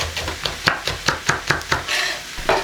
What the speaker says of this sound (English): you're going to get a green chili and you're going to get some spring onion. And just chop them together.